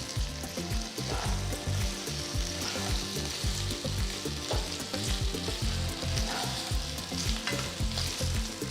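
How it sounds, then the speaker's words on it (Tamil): Chopped potatoes sauté in oil in a pan, a loud, constant sizzle broken by repeated rhythmic scrapes and knocks of a spatula stirring them up close. "நறுக்கின உருளைக்கிழங்கு சேர்த்து வதக்குங்க."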